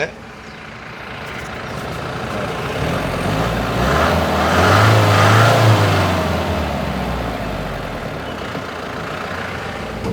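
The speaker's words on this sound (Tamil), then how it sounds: "எப்படி இருக்குதுங்க இன்ஜின் நாய்ஸ்" A Mahindra Bolero pickup's diesel engine runs steadily and swells louder in the middle as it revs, then eases back, close by with no talking.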